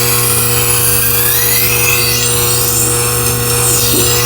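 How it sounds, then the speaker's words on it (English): A knife edge drawn across a spinning 600 grit CBN wheel on a Tormek T8 sharpener, a steady loud motor hum with a metallic scraping grind and sweeping tonal whine, no talk. "So we're going to make a few more passes on this 600 grit before we go to our next, to the 1000 grit."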